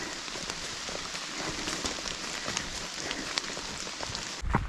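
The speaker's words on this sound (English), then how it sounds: "Here comes the rain." Steady rain pattering on a surface nearby on the Appalachian Trail, a dense continuous hiss of drops with a few sharper taps standing out, no voices.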